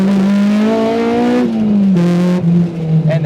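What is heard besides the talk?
K20-swapped Honda EG Civic engine revving loudly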